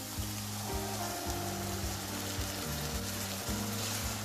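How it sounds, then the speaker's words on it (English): Onions and a bay leaf fry in oil in a kadai, giving a steady, close sizzle with soft crackle throughout and no talk. "Add in the bay leaf along with the onions and fry."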